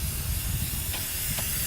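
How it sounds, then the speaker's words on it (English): Cheap hairspray from an aerosol can is sprayed onto a gaming board outdoors in a garden, a loud, close, continuous hiss with slight pulses and no voices. "just spraying this out in the garden and letting it dry"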